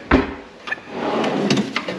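A second cabinet drawer slides open in a newly built house, giving a short wooden thump and scrape followed by softer rattling and rolling noise, close and fairly loud, with no talk.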